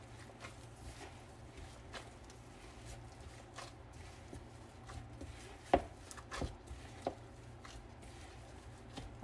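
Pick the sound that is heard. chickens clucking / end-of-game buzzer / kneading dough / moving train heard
kneading dough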